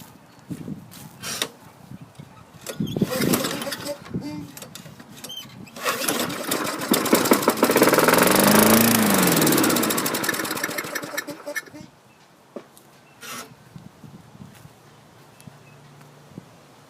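A Toro lawn mower with a Tecumseh engine, given a shot of nitro, sputters through a few failed pulls before catching and running loudly for several seconds, then dies back; brief voice and handling noises come before and after.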